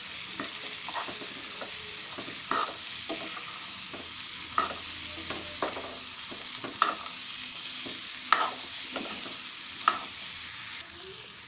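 Chickpeas are stirred into fried spices in a pan, a soft continuous sizzle broken by a dozen or so scraping strokes of the spoon at an irregular rhythm, close and fairly quiet with no talking.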